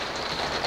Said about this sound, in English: all it's done is rain, pour down, like more rain than there's been all summer combined